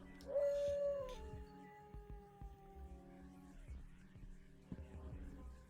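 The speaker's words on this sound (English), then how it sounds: "I would like to figure out what the howl is in that other room." A howl rises and holds from another room in The Binding of Isaac, a single long wavering cry that fades over several seconds beneath game sounds and low thumps.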